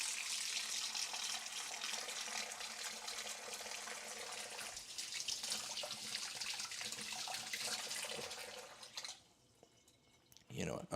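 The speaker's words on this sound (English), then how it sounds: "We want to dry the peppers, but we want to wash them." Peppers washed under a running kitchen tap for chicken tinga, a steady close rush of water splashing in the sink that stops near the end, with faint handling noises and no talk.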